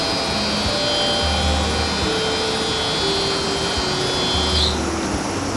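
Titan wheel polisher with a Nord gearbox running steadily, a dense continuous mechanical whir and hum with faint shifting tones, loud and unbroken, no voices.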